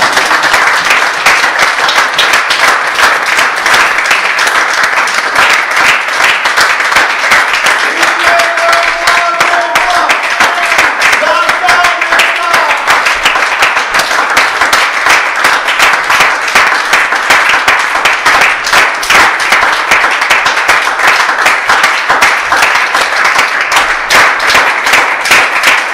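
A church congregation claps and applauds the Lord in steady, loud, continuous applause that lasts throughout, with faint voices and tones rising briefly beneath the clapping.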